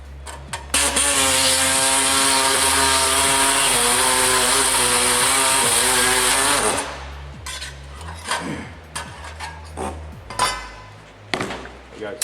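A power tool cuts through a fabricated sill, a loud, close, sustained whining drone that runs for about six seconds before stopping. Scattered clatter and knocks follow.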